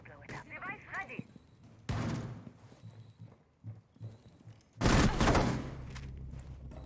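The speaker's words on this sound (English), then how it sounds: "Dumping half a magazine into the sky" Video game rifle fire emptying half a magazine, heard as two loud sustained bursts of rapid shots separated by a couple of seconds, with quieter thumps and game sounds in between.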